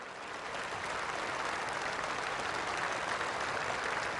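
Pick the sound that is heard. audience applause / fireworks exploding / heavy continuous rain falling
audience applause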